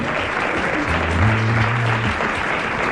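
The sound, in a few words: audience applause for Monsieur Chartron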